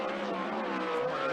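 A 360 sprint car runs a qualifying lap at Skagit Speedway on a dry dirt track, its engine a continuous loud, dense roar held steady throughout.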